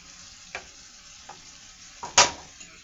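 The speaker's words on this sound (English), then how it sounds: "now I'm just going to let that simmer up" A home-cooked dish sizzling softly in a pan, with a few quiet stirring scrapes and a louder sharp crackle of frying near the end, close and without speech.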